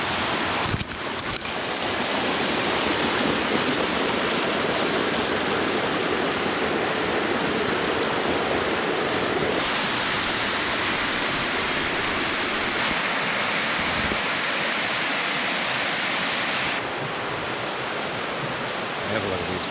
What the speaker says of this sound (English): let's go and check out this river down here because it's pretty special